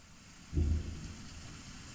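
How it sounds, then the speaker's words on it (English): Thunder rumbles in with a sudden low boom after half a second of quiet rain, then a steady rainfall continues alone with no voices. "It started to rain."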